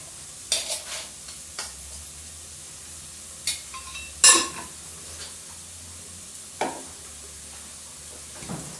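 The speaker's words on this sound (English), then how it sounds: "Allow it to fry for a while till the raw smell goes." Fennel seeds and spices frying in coconut oil for a Kerala crab masala curry: a steady low sizzle with occasional sharp stirring scrapes and taps of a spoon against the pan, no talking.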